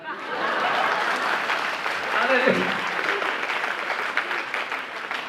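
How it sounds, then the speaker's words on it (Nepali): A church congregation at a national youth gathering in Nepal applauds loudly and steadily for several seconds, with a few chuckles and a voice calling out over the clapping. "एकपल्ट कुरा नबुझिकन ताली बजाउनुहोस् त"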